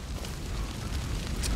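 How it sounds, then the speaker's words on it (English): A house burns in the video game Far Cry 5, a dense low roar and rumble of fire with crackling bursts, loud and continuous over a short stretch with no talk. "Well, the house is kind of on fire."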